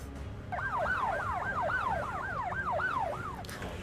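A police car siren sound effect in a Lego animation wails in a steady repeating up-and-down sweep, loud and continuous for about three seconds over a low rumbling background.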